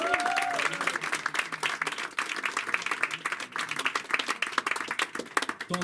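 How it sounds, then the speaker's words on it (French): Comedy club audience in Poitiers applauding during a stand-up set about classical dance: dense, steady clapping from a full room that runs the whole time, with a brief voice near the start. "Vous pouvez vous applaudir quand même"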